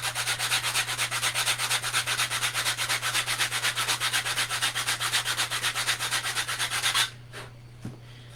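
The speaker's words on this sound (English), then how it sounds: "I'm just going to sand this edge" Sandpaper rubs back and forth along the edge of a wooden wall shelf in steady, loud, rhythmic strokes for about seven seconds, then stops abruptly, leaving a quiet hum and one small knock.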